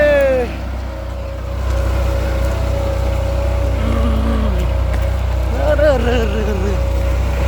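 A New Holland tractor engine revs hard in a field while ploughing under chickpea stubble, a loud close drone that surges and climbs in pitch several times, with people talking over it.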